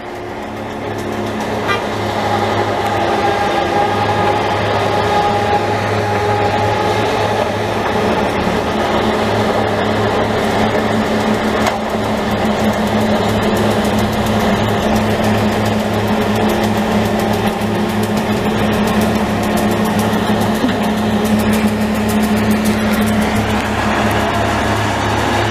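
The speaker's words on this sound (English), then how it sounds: "they're running the blower first" A snow blower runs steadily during a snow and ice removal job on a Montreal street, a loud, continuous mechanical roar with a low engine drone that holds without a break.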